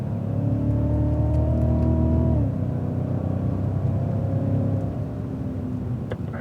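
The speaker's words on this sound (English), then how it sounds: "Balance into 10 here, tires on the curb, and then accelerate out and up" A Cadillac CTS-V accelerates hard out of a corner on a track, the engine note climbing in pitch, then shifting down and pulling on with a steady close whir.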